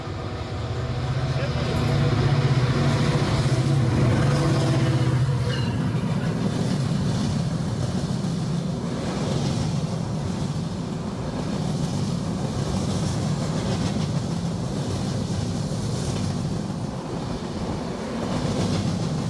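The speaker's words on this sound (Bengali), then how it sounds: "ওখান থেকে ট্রেন আসতেছে" A train approaches near Shibchar along the Padma Bridge route, with a steady low rumble and rolling noise that holds loud throughout, and people talking over it.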